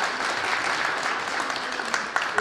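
Audience applause fills a hall at a Korean charity table tennis tournament, a steady dense clatter of many hands lasting a couple of seconds.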